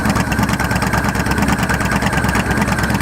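A Yamaha Stryker XVS1300 cruiser motorcycle with a Cobra exhaust idles loud and close, giving a steady, even rumble with no voices.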